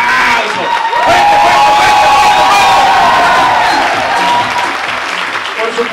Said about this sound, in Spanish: Yo quiero que le demos un aplauso como se merece nuestro corporativo